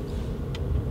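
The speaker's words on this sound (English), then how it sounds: "Oh, sorry, there's a car." A car goes by close at hand, a steady low engine and road rumble that swells slightly toward the end.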